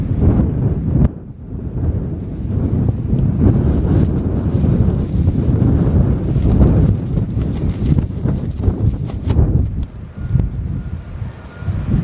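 Strong wind buffets a microphone outdoors at the dunes near Starbase, a loud, continuous roaring rumble with gusty surges throughout and no voices.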